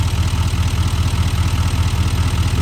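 A 2017 diesel pickup with an L5P engine idles steadily after its DPF was removed and a downpipe installed, giving a loud, continuous low rumble with a rhythmic throb and no talking.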